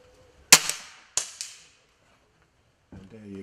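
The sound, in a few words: airgun rifle shots at a range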